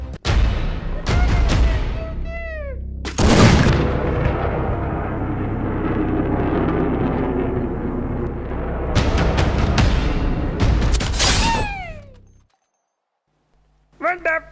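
Gunfire and explosive blasts from the Free Fire video game come as loud broadband bursts in two main clusters, mixed with chirping game effects and voices, then cut to near silence before a final brief burst.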